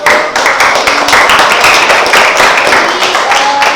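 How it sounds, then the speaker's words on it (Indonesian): Steady applause from a crowd after class presentations, dense clapping throughout without pause. "tepuk tangan untuk"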